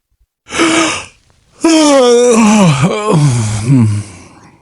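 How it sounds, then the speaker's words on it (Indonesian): A long human yawn: a short breathy intake, then a drawn-out voiced groan that bends in pitch and fades away, loud and close with no other sound. "Di tengah keheningan itu, terdengar suara menguap panjang."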